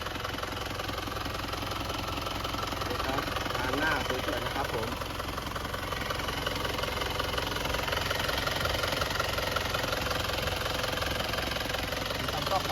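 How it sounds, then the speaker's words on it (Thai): A 1996 Isuzu TFR pickup idles steadily with its engine bay open, a smooth, even mechanical chugging that continues throughout while someone talks over it. "เสียงเครื่องยนต์เดินเรียบดีนะครับผมเสียงเดินเบานะครับผม"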